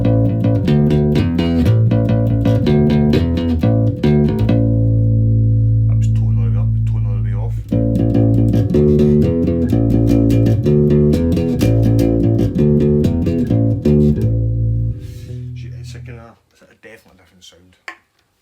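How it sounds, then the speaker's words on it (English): A Squier Precision bass with a standard single-coil P-bass pickup plays a loud, deep, punchy riff of repeated notes, which stops abruptly before the end. "So this is just a standard P-bass 50 single coil, and it kind of sounds like this."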